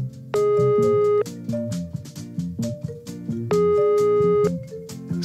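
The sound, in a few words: telephone ringing tone on rotary phone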